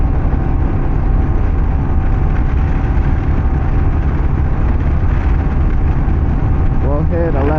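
A Kawasaki KLR650 motorcycle carrying a rider and passenger cruises at 60 mph, a steady loud engine drone mixed with heavy wind rush, continuous and close.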